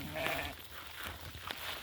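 Sheep bleat nearby in short calls at the start, and a faint low babble of the flock carries on underneath.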